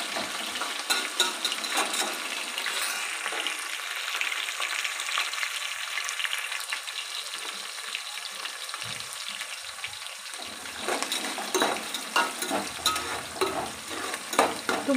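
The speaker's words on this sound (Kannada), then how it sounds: "ತುಂಬ ಈರುಳ್ಳಿ ಫ್ರೈ ಆಗಬಾರ್ದು, ಅರ್ಧ ಆದರೆ ಸಾಕು." Onions and curry leaves frying in oil for egg fried rice, a steady bright sizzle with crackling pops and occasional spoon clinks against the pan, close and without talking.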